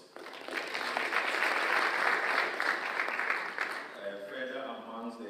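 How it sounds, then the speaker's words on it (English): An audience at a digital technology conference claps for a keynote speaker: a few seconds of moderate, dense applause that swells and then tapers off, with a voice starting to talk as it fades. "we can also give him the round of applause"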